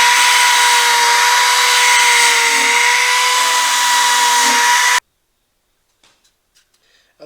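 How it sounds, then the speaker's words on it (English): A wire brush scrubs rust off a corroded space heater part, making a steady, loud whining, rasping drone with a motor-like tone for about five seconds before cutting off abruptly into near silence. "Of course, I'm using a wire brush."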